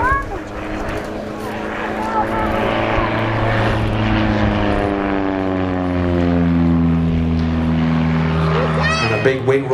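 An SA Bulldog G-AXIG propeller aeroplane flies past at the East Fortune airshow, its engine drone rising and falling in pitch as it passes, with a commentator talking over it.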